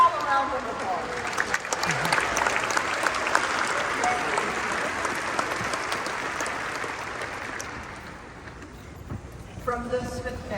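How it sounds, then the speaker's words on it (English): Sustained applause from a large audience at a memorial service in Memphis honoring FedEx founder Fred W. Smith, dense clapping filling the room and slowly thinning toward the end, with voices and brief musical tones rising near the close. "Let's give them all a round of applause."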